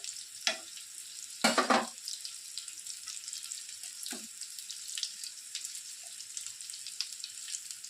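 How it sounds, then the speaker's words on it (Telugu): Stuffed bitter gourd fries in oil with a constant fine sizzle and a few louder crackles and splutters, close and alone. "ఆయిల్లో ఫోర్ సైడ్స్ నుంచి బాగా ఫ్రై చేసేసుకోవాలండి"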